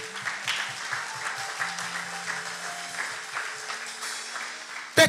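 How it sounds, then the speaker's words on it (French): Church congregation clapping and cheering in acclamation during a sermon on intercession, a textured crowd sound over a low rhythmic pulse of background music, with a brief louder burst right at the end. "Est-ce que quelqu'un peut donner une offrande d'acclamation à notre Dieu?"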